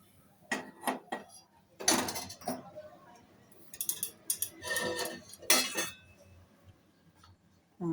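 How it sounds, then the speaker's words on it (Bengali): Lemongrass rose tea being strained into a cup, with irregular metallic clinks and clatters of a strainer, spoon and cup coming in short clusters against a quiet kitchen background. "এখন আমি চাটা ছেঁকে নেব বন্ধ করে দিয়ে।"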